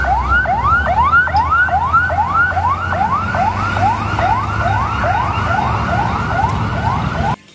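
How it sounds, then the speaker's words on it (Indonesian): A toy fire truck's wailing electronic siren cycles rapidly up and down in a steady repeating pattern, loud and close, then cuts off abruptly. "Mobil pemadam kebakaran."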